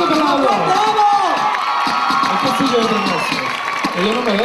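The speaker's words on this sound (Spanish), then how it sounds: "Vamos a dar un aplauso a los dos." Loud crowd cheering and whoops fill the space at a freestyle rap and hip hop dance show in San Fernando, steady throughout with voices shouting over it.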